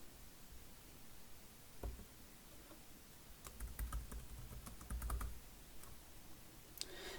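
Computer keyboard typing while editing text in a table: sparse soft clicks at first, then a quick burst of close keystrokes in the middle, over a steady hiss.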